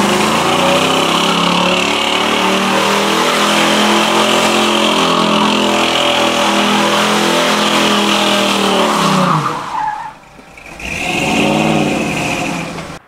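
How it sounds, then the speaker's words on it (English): A 1968 Camaro restomod engine revs loud and close, holding a strong sustained roar, then briefly dropping off before surging back up to a high rev. "If you don't know what this is a 68 Camaro."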